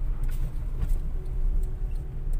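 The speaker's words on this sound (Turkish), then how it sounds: "Ve motor freniyle durmuş oluyoruz" A car slows under engine braking after a downshift into first gear, a low steady engine rumble and road noise from inside the cabin, with faint clicks and no one talking.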